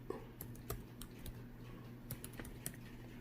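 Soft, quiet typing on a computer keyboard, a scattering of light irregular key clicks over a low steady background hum.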